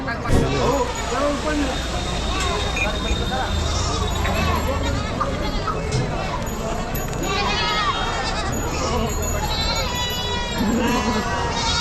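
Goats and sheep bleat amid a dense, busy crowd at a large weekly goat and sheep market in Chakan, Maharashtra, with continuous chatter and speech babble filling the background throughout.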